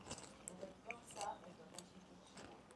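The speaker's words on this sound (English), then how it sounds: "Nice and crunchy, nice and smoky, as you would expect from a bacon." Quiet, close-up crunchy chewing of bacon with small crisp bites and snaps, soft and intermittent against a faint background.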